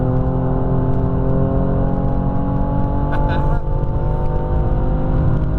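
A four-door car with a twin-turbo 3-litre six-cylinder engine making 450 horsepower drives on the Nürburgring, giving a steady loud engine drone from inside the cabin, with brief rattling noises partway through.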